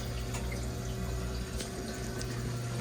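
Water swishing and gurgling inside the heat exchanger of a Weil-McLain Ultra boiler with an ignition failure, a continuous wet churning with a low hum underneath and occasional small splashes.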